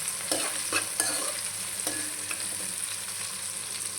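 Chicken fry with cashews and curry leaves sizzles in a hot pan, with a few loud spatula scrapes and stirs early on, then an even crackling fry up close and no voices.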